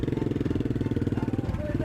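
Royal Enfield motorcycle with a custom cafe racer exhaust, Interceptor 650 or Continental GT 535, running at a steady, rapid engine pulse with a loud, close, continuous rumble, with a voice talking over it.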